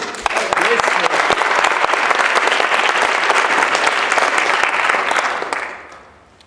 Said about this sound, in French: Je vous demande d'applaudir Léopold Henry.